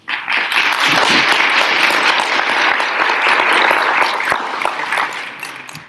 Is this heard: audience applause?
yes